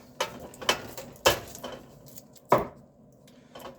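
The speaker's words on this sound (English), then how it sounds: "I like to put a few wraps around the lid" Grafting tape being wound in a few wraps around a plate lid, giving five sharp crackling strokes at irregular intervals, close and fairly quiet, with no talking.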